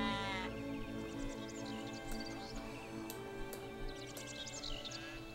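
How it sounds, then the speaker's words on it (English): Sheep bleat repeatedly over a steady musical backdrop in the video game Black & White, the calls clear and fairly close, arriving in short bursts. "I keep on hearing a sheep."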